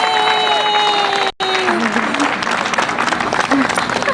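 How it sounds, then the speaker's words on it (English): Loud, dense applause and some cheering from an audience at a corporate March of Dimes ambassador event honoring a family with a baby boy, sustained throughout with a brief dropout and faint tones in the background. "Let's give another round of applause to the Esteban family"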